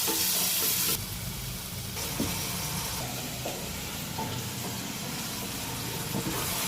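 Spice masala mixture with a little water is stirred in a hot pan while making goat liver fry, a close continuous sizzle and hiss broken by soft scraping strokes, louder at first then settling to a steady level.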